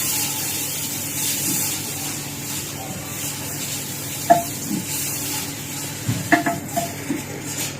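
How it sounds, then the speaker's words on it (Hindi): Finely chopped onions, two of them, frying in a pan until just lightly browned for a village-style kadhi pakora: a steady soft sizzle runs throughout, with a few light clinks and scrapes of stirring toward the end. "प्याज को हम हल्का सा ब्राउन कर लेंगे पहले।"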